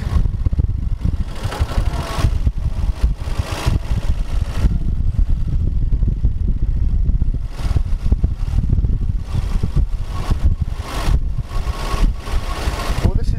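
Steady, loud motorcycle engine drone throughout, rumbling low with wind buffeting, recorded while riding on a GitUp Git 2 action camera with an external microphone; a voice may be faintly buried in the noise.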